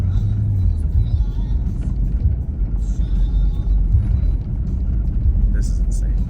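A fifth-generation Toyota 4Runner rolls along a slippery mountain road of snow over ice in four-wheel drive, its engine and tires making a steady low rumble inside the cabin, with faint creaks and light clatter on top.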